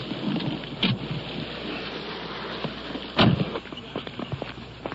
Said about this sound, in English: Rain is coming down now.